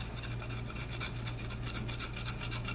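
Burnishing a textured paper clay surface, a close, continuous dry rasping rub with a soft pulsing rhythm from the strokes, heard alone.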